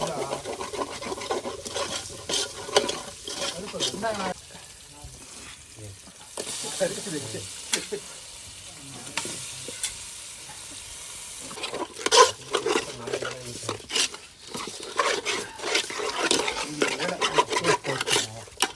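Chicken pepper fry sizzles and is stirred in a pan, heard as a busy mix of frying hiss and repeated scraping stirs, up close, with voices talking intermittently over the cooking.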